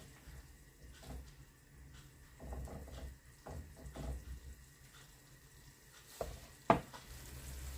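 Onion and carrot simmering in water in a covered pan for a Ukrainian Christmas dish, a quiet bubbling hiss with soft clinks and scattered knocks, including a sharper tap near the end.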